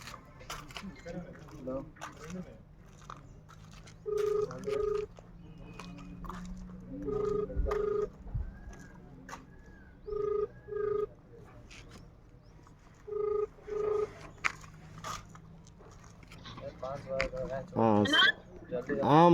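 A phone call going through: regular ringback tones pulse several times over a low hum, with faint talk in the background.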